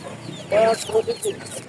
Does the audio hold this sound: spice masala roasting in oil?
no